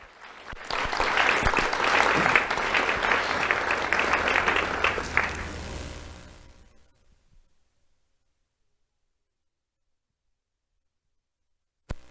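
Audience applause for a young Do The Right Thing award recipient at a sheriff's office ceremony, a steady full burst of clapping lasting about six seconds before fading out into silence.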